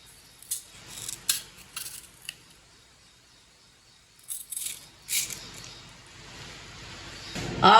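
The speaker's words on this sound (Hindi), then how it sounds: "चारों आम को ना इसी तरह काटना है।" A knife or blade cuts raw green mangoes for pickle in a series of close, crisp, irregular cutting strokes, separated by short quiet gaps, with some handling noise at the end.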